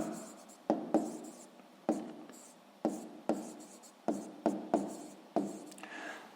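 A pen scratches across paper while a math problem for a sixth-grade exercise is written out, in a series of short strokes and taps with brief pauses between them, close and quiet.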